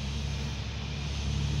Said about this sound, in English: there goes the dump truck back up the hill